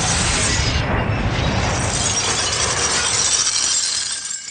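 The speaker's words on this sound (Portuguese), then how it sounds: "O vidro todo se quebra" A glass terrarium crashes onto a road in an animated film scene, a loud dense shatter followed by a sustained spray of tinkling shards that fades over about four seconds.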